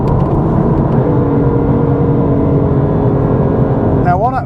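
A car with a DCT gearbox drops from sixth toward fourth, its engine note blipping up in steady rev-matched surges under constant road and cabin drone, with a voice starting briefly at the end.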